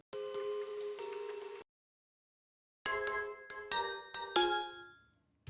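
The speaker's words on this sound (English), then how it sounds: "let's do one more bell sound" Bright synthesized bell tones from a demo track built with Northern Lights, a chiming sustained phrase, a pause of silence, then a series of struck bell hits decaying into quiet.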